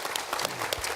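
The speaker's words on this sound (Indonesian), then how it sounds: "Boleh tepuk tangan buat Kang Deddy" Applause from an audience at a talk held in Purwakarta, steady dense clapping throughout the short stretch with a few louder claps standing out.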